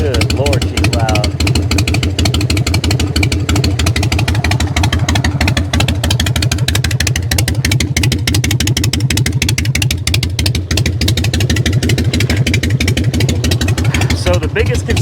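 A motorcycle with straight pipes and no mufflers idles loudly nearby, a deep, rapid, throbbing rumble that holds steady throughout, with someone talking over it.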